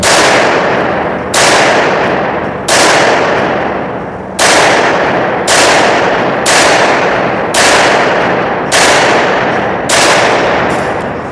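Nine rapid, loud shots from a Baikal gun fired at a 10-metre target, each sharp blast close and followed by a ringing decay, in an even, quick rhythm.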